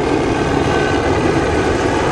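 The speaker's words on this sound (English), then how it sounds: "it's like a helicopter and a plane at the same time" An aircraft passes overhead in Lima, Peru, with a steady, loud, broadband engine and rotor roar that sounds like a helicopter and a plane at once, holding continuously close by with no speech.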